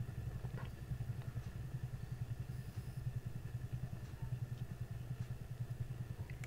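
Small mini blower spinning for cell and lace work, a faint steady whirring hum with a fast regular pulsing flutter and light scattered clicks.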